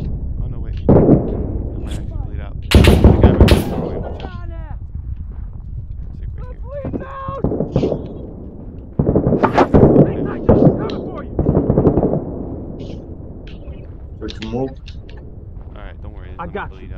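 Gunfire in the game Six Days in Fallujah comes in several loud, sharp bursts of shots scattered across the stretch, with someone talking between and over them.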